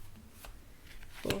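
Tarot cards slide and snap as they are pulled from a deck, soft papery rustles ending in a louder card flick near the close, all close and fairly quiet.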